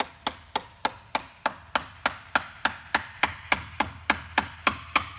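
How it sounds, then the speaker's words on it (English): Wood is struck with a hammer while a river coffee table is being built, a steady run of about twenty sharp, evenly spaced blows, close and loud with no talking. "Now hammer that one. Hammer that big one in."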